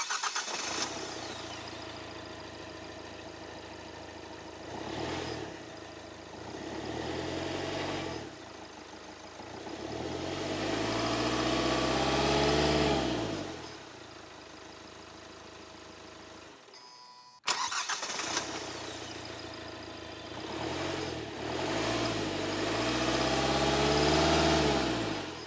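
A diesel car engine cranks and catches twice, each start followed by a steady idle with brief revs swelling and falling, close and fairly clear, with a sharp cut between the two runs.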